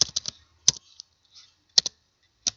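Keys on a computer keyboard clatter in short bursts while a C printf statement is typed: a quick cluster of taps, a pause, then a few more scattered clicks, close and crisp.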